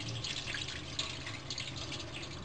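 Water runs steadily from a tap while rice is washed for a vermicelli rice pilaf, a continuous close splashing and trickling with a few brighter drips, and no talking.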